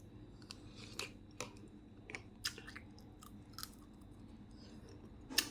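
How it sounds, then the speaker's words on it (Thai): Close, quiet chewing of shrimp rice porridge, with soft wet mouth clicks and small crunches arriving irregularly, a sharper bite near the end, and no talking. "กินข้าวต้มกุ้งแบบนี้"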